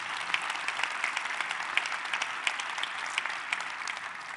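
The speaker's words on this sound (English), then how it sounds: "Let's give that round of applause." Applause from a crowd at an announcement event tied to the NFL Draft in Detroit, a brisk, fairly soft patter of many hands clapping continuously throughout, slightly distant.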